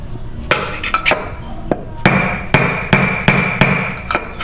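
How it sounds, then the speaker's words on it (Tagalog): Sharp metallic hammer taps strike repeatedly on a Yamaha NMAX V2 torque drive bearing, about a dozen hits at an uneven pace, close and ringing. "kuha lang kayo ng martilyo"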